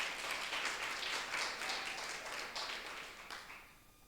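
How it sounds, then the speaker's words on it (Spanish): Clapping from a church congregation fills the space, a dense spread of applause that gradually thins and fades toward the end. "Aplauda a Jesús."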